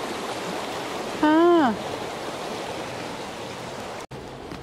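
Water pours steadily through a canal sluice gate, a constant broad rushing flow heard nearby; a person briefly makes a short vocal sound partway through.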